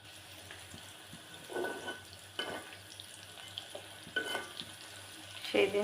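Prawns frying in a pan give a low, faint sizzle, with a few louder scraping stirs breaking through at irregular moments.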